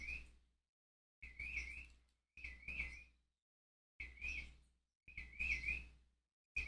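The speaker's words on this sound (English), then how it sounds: "there's a bird right outside my window" Bursts of bird chirping, four or five quick warbling phrases, each separated by silence, soft and slightly distant, with no other sound.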